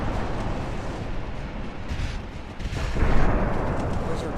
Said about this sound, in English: Those are 24-inch torpedoes that just landed.